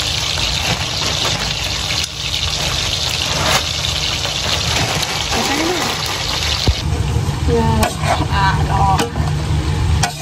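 Pancit canton noodles being stirred in a sizzling pan make continuous close frying and scraping, with a louder clatter of stirring midway, under occasional talk.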